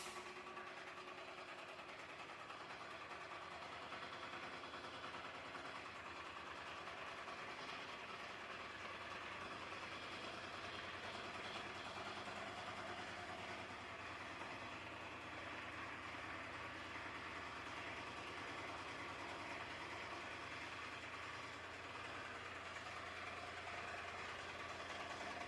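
In a ship's engine room, the main air compressor runs with a continuous, dense mechanical roar and hum, steady and unbroken throughout, with no voices.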